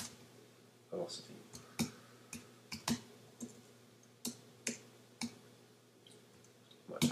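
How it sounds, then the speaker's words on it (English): Sharp clicks of computer keyboard typing come in irregular bursts, close and fairly loud, with pauses between keystroke groups over a low steady hum while a person programs animation in Dolphin Smalltalk. "My typing."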